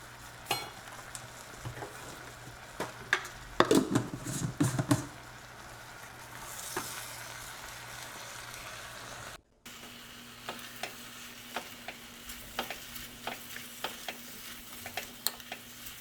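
Kidney beans and spices, chunky chaat masala and rajma masala, are stirred together in a Dutch oven, a soft sizzle under repeated spoon scrapes and taps against the pot, with a brief cut midway.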